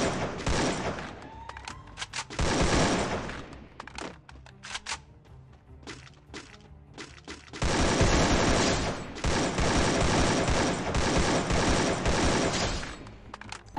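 Rapid bursts of video game gunfire, loud and dense, with a brief quieter stretch in the middle before heavy firing resumes.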